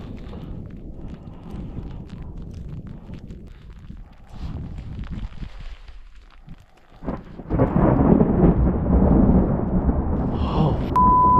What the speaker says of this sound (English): We have a thunder blizzard here.